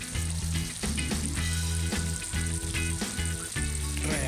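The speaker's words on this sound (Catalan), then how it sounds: "Ho sentiu? El vi s'està reduint." Wine reducing in a pan for a scorpionfish sauce gives a steady, close sizzle and bubbling hiss that runs throughout, with a faint rhythmic low thumping pattern underneath.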